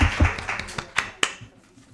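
An audience claps for the teams at a diplomacy challenge simulation on G20 themes, a sparse, uneven scatter of individual hand claps, fairly close, fading out toward the end.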